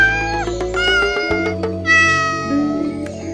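A cat meows repeatedly in clear, close calls, with toy kitchen clatter underneath and no one talking.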